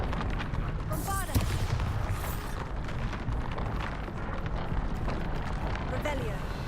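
A Bombarda spell explosion in the Hogwarts Legacy video game bursts early on. It sits within a dense, continuous wash of loud game noise that carries on throughout.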